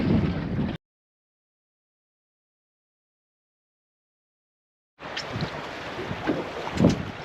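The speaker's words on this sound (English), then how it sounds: "Well, the old wind's picked up now." Wind buffeting the microphone on a fishing boat at sea in the Solent, a loud rushing roar that cuts out abruptly into silence for several seconds before returning.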